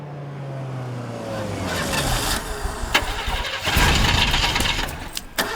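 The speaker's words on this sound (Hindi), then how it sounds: "गाड़ी चालू नहीं हो रही सर" A car starter cranks with a rising whine that gives way to rough, sputtering engine noise that never settles into a steady idle, loud and close, with no voices.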